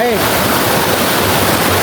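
Waterfall at Sap Sa Kaeo, Ban Khao Phluang, in Bueng Sam Phan, pouring down a cliff face as a steady, loud broadband rush, continuous and close, with someone talking over it.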